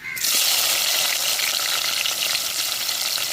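Chopped big onions hit hot oil with fenugreek seeds and curry leaves for a spicy fish curry, giving a loud, steady, close-up sizzle that starts abruptly and continues without talk.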